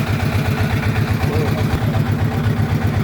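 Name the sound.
motor boat engine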